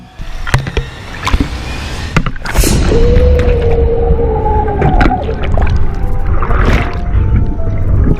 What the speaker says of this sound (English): the predator keeps banging against the cage